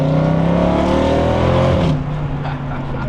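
Dodge Challenger Redeye fitted with an aftermarket exhaust, its engine roaring loud and close with a rising rev that drops sharply after two seconds into a lower rumble.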